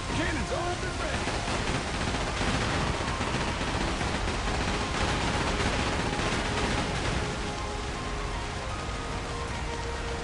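Ship cannons and guns fire in a dense, continuous barrage during a naval battle in the video game Like a Dragon: Pirate Yakuza, loud and unbroken throughout with voices underneath.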